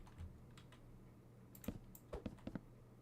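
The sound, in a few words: loud computer keyboard typing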